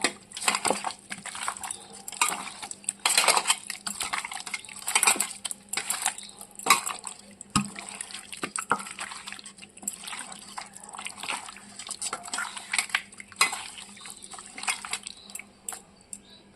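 Food being mixed by hand in a pot or bowl for a Bengali home-cooked Sunday lunch, with spices such as turmeric and chili worked in: soft wet squelching and scraping with scattered clinks of metal, steady and close for the whole stretch.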